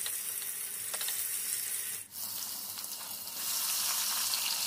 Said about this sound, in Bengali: দিয়ে এবার টমেটোগুলোকে একটু খুব সুন্দরভাবে একটু ভেজে